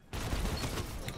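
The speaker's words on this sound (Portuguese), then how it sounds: "tomei um tiro" A short burst of rapid gunfire in Destiny 2, crackling and dense, lasting about a second.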